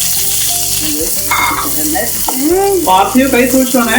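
Onion and green chillies sizzle steadily in a hot pan as a base for butter paneer masala, with a continuous close frying hiss and occasional stirring scrapes.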